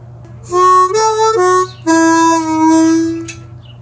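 Harmonica playing a bent-note intro, a few sustained, wavering reedy tones with a bend down and back, close and clear over a low steady hum.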